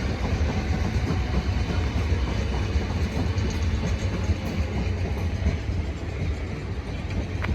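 A Class 450 electric train pulls into Clapham Junction, a loud, steady rumble of wheels and carriages close by, continuous throughout with no voices.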